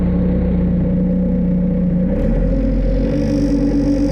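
A Bobcat S250 skid steer's diesel engine runs close by just after a cold start, a steady low idle rumble that shifts partway through as the revs are raised to a higher, busier drone.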